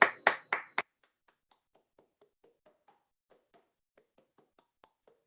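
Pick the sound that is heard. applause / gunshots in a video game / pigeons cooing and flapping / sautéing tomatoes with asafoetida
applause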